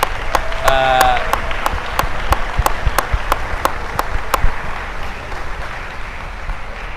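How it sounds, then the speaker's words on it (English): An audience at a high school sports broadcast applauds a sportscaster, steady crowd clapping that stays loud and even throughout, with a sharp rhythmic ticking running over it. "I don't think I've ever been applauded once here"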